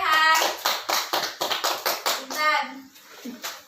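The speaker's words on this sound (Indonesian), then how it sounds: "tepuk tangan untuk Rehan." A second-grade primary school class claps hands in a quick rhythmic pattern while children's voices chant along, close and fairly loud, ending with a few scattered claps.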